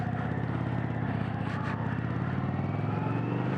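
A 2021 Indian Vintage Dark Horse motorcycle engine runs in sport mode with a steady, deep, loud rumbling idle, close and constant for several seconds with no talking.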